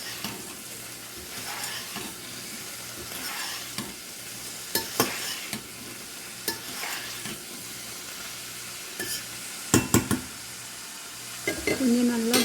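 Spring onions and beetroot stems sautéing in oil for beetroot stem sambar, a continuous close sizzle punctuated by spatula scrapes and clinks against the pan, with no talking.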